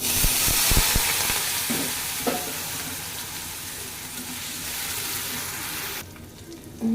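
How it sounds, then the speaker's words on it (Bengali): Potatoes drop into hot oil and fry with a loud, continuous sizzle close by, with a few clatters of utensils at the start and a brief bump near the end. "তেলটা গরম হয়ে গেছে আলুগুলা দিয়ে দিই"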